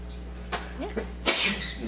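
A single sharp sneeze bursts out loudly near the microphone at a planning commission meeting, preceded by a brief intake of breath in a quiet room.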